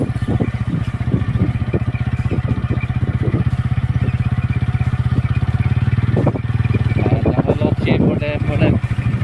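A motorcycle engine chugs steadily and close while riding along a rural dirt road, a continuous rhythmic putter with people talking over it.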